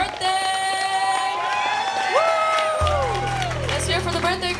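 A live audience cheers and claps for a clarinet player's birthday performance, with whoops and voices riding over the steady crowd noise, loud and close.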